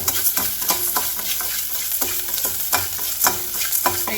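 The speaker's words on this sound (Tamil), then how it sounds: "உப்பு தேவையான அளவுக்கு நம்ம போட்டு அதையுமே லைட்டாக வறுத்து எடுத்துக்குவோம்" Salt dry-roasting in a pan for curry leaf podi, with repeated scraping stirs and a light steady hiss, close and clear with no talk.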